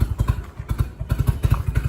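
A Nissan Hardbody D21 turbo truck engine with misfires idles with a rough, lumpy chug, its rapid uneven thumps pulsing steadily nearby like an old tractor.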